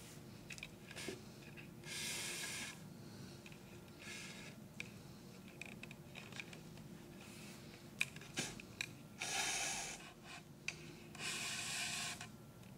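A leather lace is drawn through punched holes in double loop lacing on leather, making soft rubbing and rasping pulls in several separate bursts, close but quiet, with small clicks between them.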